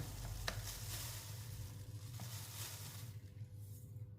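Half a cup of dried coconut goes into sago cooking in a pan, bringing a soft steady sizzle with a few faint scrapes and stirring taps, quiet and continuous with no talking.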